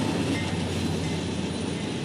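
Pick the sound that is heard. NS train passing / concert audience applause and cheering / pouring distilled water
NS train passing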